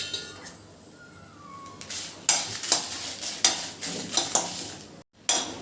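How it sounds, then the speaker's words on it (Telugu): Dry red chillies fry in oil on a low flame, giving a quiet continuous sizzle broken by a series of sharp clinks and scrapes of a spoon against the pan, close up, with no talking. "దీనికి కూడా కొంచెం ఆయిల్ వేసుకుందాం. లో ఫ్లేమ్లోనే ఫ్రై చేయాలండి అన్నీ."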